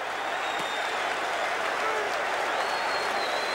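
A basketball crowd at an NBA playoff game responds to a pushing foul on Bernard King with a steady, dense roar of applause and cheering that holds at full strength throughout.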